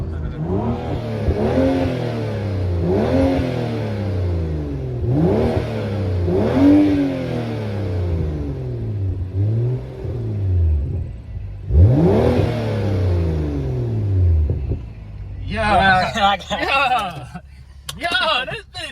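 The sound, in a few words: BMW F10 with straight-piped exhaust revving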